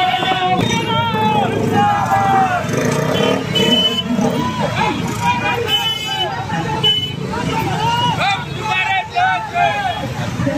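Motorcycles and vehicles in a large political party bike rally in Akola move through a dense, loud crowd, with horns tooting and engines droning steadily under constant chanting and shouting voices throughout.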